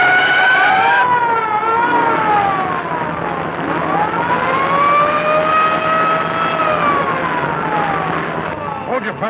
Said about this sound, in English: Eagle, the police car is following us